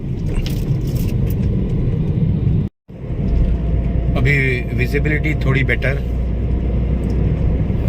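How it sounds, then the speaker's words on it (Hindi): A car speeds along the highway between Lahan and Kakarbhitta, its steady road rumble and engine drone continuous beneath someone talking, with a brief dropout partway through. "गाड़ी का रफ्तार भी अभी बढ़ गया है।"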